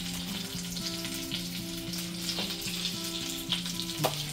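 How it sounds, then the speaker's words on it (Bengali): Egg devil chops deep frying in hot oil, giving a steady, close sizzle and crackle throughout, with a faint background hum and a few light clinks near the end. "এদিকে আমাদের ডেভিলগুলো মোটামুটি ভাজা হচ্ছে।"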